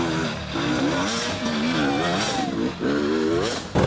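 An enduro motorcycle engine revs hard on a rutted, rocky trail during an extreme hard enduro challenge, loud and close, with rising and falling pitch as the throttle is blipped repeatedly.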